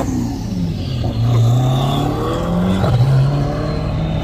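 Sports cars including a McLaren 570S roar away in turn, loud rising engine notes sweeping up and falling back as each accelerates, close by and drowning out everything else.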